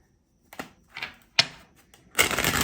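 Tarot or oracle cards being shuffled by hand, a few separate crisp flicks and riffles followed by a longer continuous papery shuffle, close and alone with no talking.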